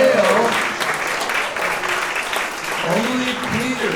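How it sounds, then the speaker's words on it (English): Audience applause at a literary tribute event, a sustained wash of clapping for about four seconds, with a voice talking over it at the start and again near the end. "I think that deserves a well-deserved round of applause."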